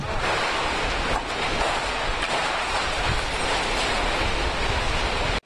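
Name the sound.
strong typhoon wind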